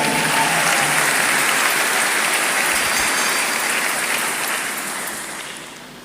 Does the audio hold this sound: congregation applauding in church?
yes